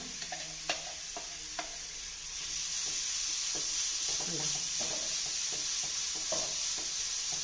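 Crushed ingredients for pappadam thoran are tipped into hot coconut oil and stir-fried, starting a loud, continuous sizzle with intermittent scraping and stirring knocks close by.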